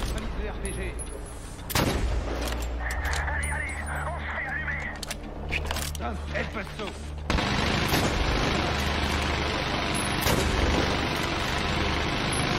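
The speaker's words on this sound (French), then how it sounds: "Vous avez vu où j'ai tiré pour que ça le tue?" Dense gunfire in Medal of Honor Warfighter: bursts of shots and explosive booms over a constant rumble of engines and battle noise, with someone talking in French over it.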